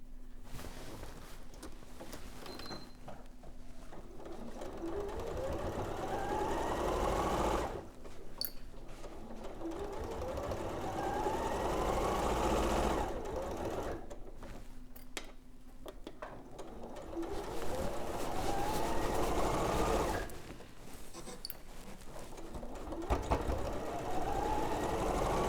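A sewing machine stitches a Mount Divine quilt in long runs, its steady mechanical whir starting and stopping in bursts that are separated by brief pauses.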